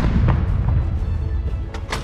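Ceremonial cannon fired by a university Corps of Cadets outdoors, heard as a few deep booming thumps with low rumble over steady background noise.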